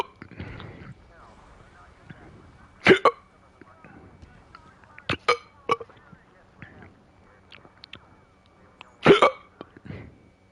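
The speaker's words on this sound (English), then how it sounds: "No, I got hiccups." Repeated hiccups from a person playing Ace Combat 7, several sharp, fairly loud spasms spaced a few seconds apart, with quiet talk and game sounds underneath.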